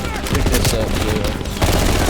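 Rapid automatic gunfire in the Call of Duty Cold War video game, loud close bursts of overlapping shots across the whole moment, with a voice talking over them.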